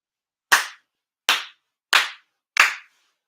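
Four sharp, sincere hand claps of Shinto worship at an end-of-year ceremony ring out alone in a quiet space, evenly spaced with a brief pause between each, crisp and close.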